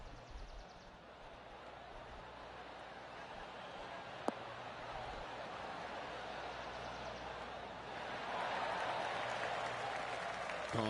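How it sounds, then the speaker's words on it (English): Polite golf clap applause from a small gallery in the video game PGA 2K23, a soft continuous patter of many hands that swells a little toward the end, faint and distant. "Oh, golf clap."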